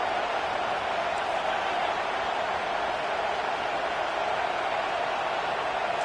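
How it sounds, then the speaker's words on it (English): A stadium crowd in a football video game roars steadily behind the defense on third down, a dense, unbroken wash of cheering noise that stays loud and even throughout. "Decibels rising as the crowd gets behind this defense on 3rd down."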